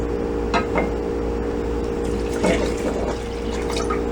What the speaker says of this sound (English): And now let's add 3 cups of water.